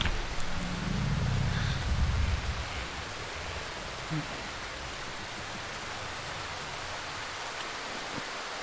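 Rain in the video game Darkwood, a steady hiss of falling rain throughout, louder at first with a low rumble before settling into an even wash, with a faint knock partway through.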